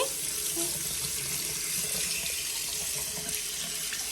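Water runs steadily from a home tap into a sink while hands are washed, a continuous close splashing rush at even volume throughout.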